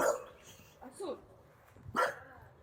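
A puppy gives a few short barks and whimpering yips, fairly close and loud, with people talking around it.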